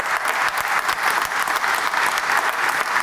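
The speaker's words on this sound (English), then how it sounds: "Let's give them a round of applause too" A crowd at a city hall ribbon-cutting ceremony and press conference claps steadily, a brief, even wash of applause from many hands.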